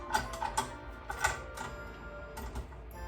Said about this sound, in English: Okay, on with our balloon whisk.